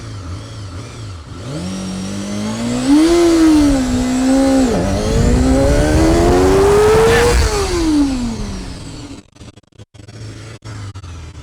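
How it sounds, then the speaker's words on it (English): A budget Walmart motorcycle launching from a standstill, its engine note climbing loudly through the gears in rising sweeps before easing off. The sound is close and strong throughout, with no talking. "I could have done the launch better, but that thing is quick"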